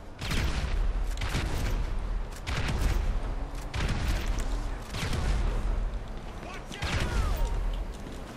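Rapid bursts of machine gun fire in GTA V, loud and close, coming in repeated volleys of a second or two with brief gaps, over a dense game-sound background.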